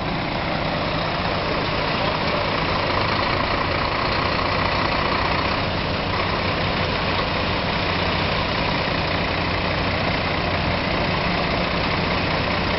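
Lorry engine idling steadily during night road resurfacing in Finchingfield, Essex, a loud continuous low rumble and mechanical drone that stays constant throughout, close by.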